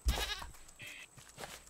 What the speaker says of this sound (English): Fucking goat, get back here.